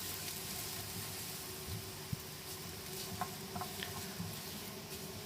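Glass noodles with egg being stir-fried in a pan with a little added water: a steady low sizzle with soft scraping and patter of the spatula, a few light clicks, no talking.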